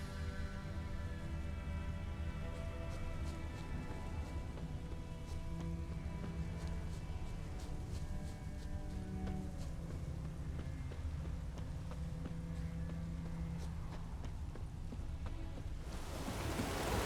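Rain falls in The Witcher 3 video game as a continuous hiss dotted with scattered sharp drop ticks, under a sustained tonal backdrop, before swelling into a brighter wash at the end.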